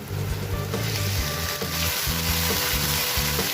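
Chicken sautéing with white onion in a pan for chicken tamarind soup, giving a loud, dense, continuous sizzle with steady frying crackle, close and without talk.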